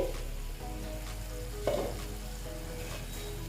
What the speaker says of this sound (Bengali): দেখো আমার মশলাটা প্রায় ভাজা হয়ে গেছে